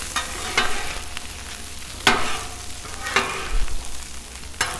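Spicy Mongolian ground beef cooks in a pan with a soft, steady sizzle, broken by several sharp scrapes and clacks of a utensil stirring it.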